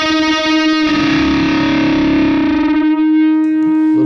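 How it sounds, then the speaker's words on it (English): An electric guitar chord rings through a Friedman Handwired 100-watt amp, distorted and thick, with stereo chorus and reverb. It sustains loud and shimmering for several seconds before decaying, with no talking. "little stereo chorus just to kind of give it some dimension, and then the reverb."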